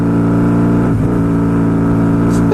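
A Honda V4 motorcycle engine idles loud and close with a steady harmonic drone, with a brief throttle blip dipping and recovering near the middle and a short rise at the end.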